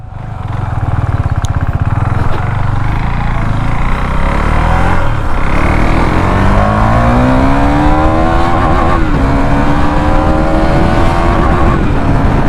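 A KTM Duke motorcycle, either a Duke 390 BS4 or a Duke 250 BS6, starting up and revving loudly up close, engine pitch climbing through rising accelerations and gear changes.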